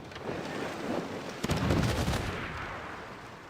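A brace of pistols fired in a pirate video game: a sharp shot followed by a rolling burst of further gunfire and blast noise, moderately loud, trailing off at the end.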